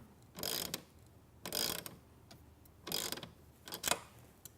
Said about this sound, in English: And I'm going to tighten this all the way. It should be snug, but not wrenched on too hard.